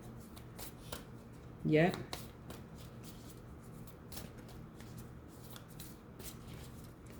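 Moonology oracle cards are shuffled in one short, quick riffle near the start, faint under a quiet room and a brief spoken word.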